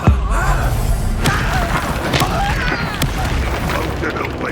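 Fiery Confringo spell explosions booming in the Hogwarts Legacy video game on PS5, a loud burst at the start followed by dense rumbling combat effects and sharp impacts, with a character's voice and battle sounds throughout.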